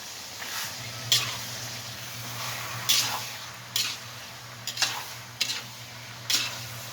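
Pepper-seasoned beef steak (bistek) being mixed in a pan, with a soft sizzle beneath a series of sharp utensil scrapes and clinks at irregular intervals, close and fairly quiet.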